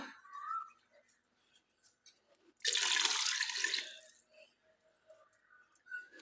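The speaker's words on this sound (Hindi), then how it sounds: "अब इसमें हम डाल देंगे पानी।" Water from a container poured into a pot of half a kilo of rice, a loud broadband splashing pour lasting about one and a half seconds amid quieter kitchen clatter.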